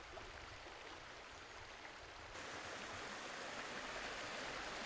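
A river flows beside a forest trail in the Aizkorri-Aratz Natural Park: a steady, faint rushing of water with no voices, growing somewhat louder and brighter halfway through.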